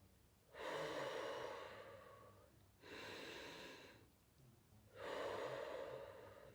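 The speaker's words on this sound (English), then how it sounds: "So inhale." Slow, deep belly breathing during an exercise for mothers: three long, close airy breaths, each a couple of seconds, separated by short pauses, with nothing else audible.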